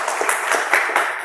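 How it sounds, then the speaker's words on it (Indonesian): Brief burst of applause from a classroom or lecture audience for a student, steady overlapping clapping lasting just over a second, moderately loud and close. "Tepuk tangan buat Mas"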